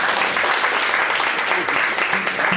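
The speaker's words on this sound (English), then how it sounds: "let's give another round of applause" An audience at a data visualization meetup claps in a dense, steady round of applause that fills the whole stretch, with a voice faintly mixed in.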